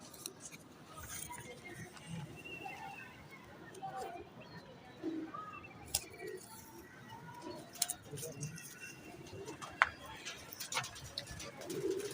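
Saharanpuri pigeons coo faintly and intermittently among scattered rustles and clicks, with people talking in the background.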